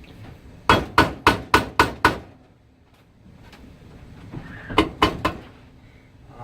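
Hammer strikes on a Tecumseh/Larson small engine part while fitting its clutch: a quick run of six sharp metallic blows, then a quieter pause and a second burst of three, close and loud with no talk.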